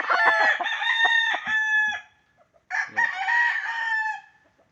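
A pure white Kelso gamefowl rooster, one year old, crows twice up close, each long loud call separated by a brief pause.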